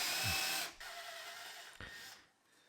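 A power drill whirs at high speed boring into plywood, stops briefly, then bores again in a short burst before winding down.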